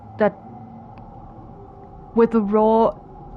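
The Faceless, a colossal creature in the Exocolonist video game, gives a short cry and then a longer, loud, tonal bellowing roar that rises and holds before cutting off, over a low ambient hum.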